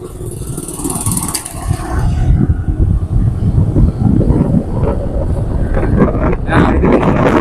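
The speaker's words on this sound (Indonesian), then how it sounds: "Kita nanti naik perahu" A motor boat carries riders across floodwater around a flooded village, its engine a steady, loud drone buffeted by wind noise throughout, with low rumbling pulses underneath.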